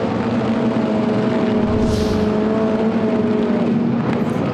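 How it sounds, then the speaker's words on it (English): A rallycross car sits at the start line during qualifying at the 2019 World Rallycross in Spa, its engine held at a loud, steady, droning rev on the handbrake for several seconds, with a brief hiss near the middle. "Holds onto the handbrake, revs up, here we go."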